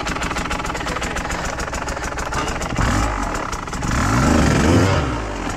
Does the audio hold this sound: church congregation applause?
no